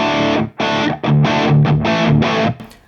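Heavily distorted electric guitar through a Mesa/Boogie Recto-Verb tube amp head in vintage mode, played as loud chugging chords in bursts with short gaps between them, then ringing out and fading at the end.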